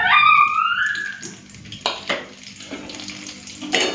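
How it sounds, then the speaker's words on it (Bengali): Nigella seeds and slit green chillies frying in hot oil for a fish curry, giving a bright sizzle that starts loud and then settles into a steady quieter crackle with a few sharper spits, no talking. "কালো জিরে ফোড়ন দিয়ে দিচ্ছি, কয়েকটা চেরা কাঁচা লঙ্কা দিয়ে দেবো"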